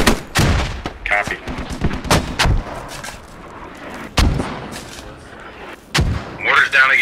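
Mortar impacts and rifle gunfire in the military shooter Squad, with a sharp series of loud booms and cracks spread across the scene, interspersed with quieter gaps and a burst of radio chatter near the end.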